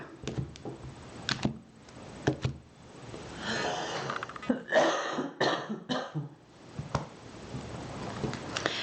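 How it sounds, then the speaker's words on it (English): Someone nearby coughs and clears their throat several times in rough bursts, with scuffling movement between them. "Excuse me for coughing."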